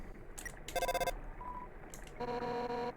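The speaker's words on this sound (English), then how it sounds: "Might as well use the phone." Cell phone menu sounds in the Undertale video game: a few short tonal beeps and chimes in quick bursts with pauses between them, fairly quiet over faint background noise, no talking.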